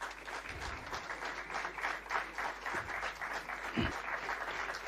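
Moderate, fairly thin applause from a convocation audience at a school of business management, steady and continuous with a few low thumps beneath.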